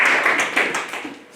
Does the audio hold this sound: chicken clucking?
no